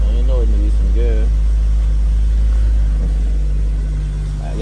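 A car engine idling steadily just after starting, a loud, constant low rumble that continues throughout, with someone talking over it.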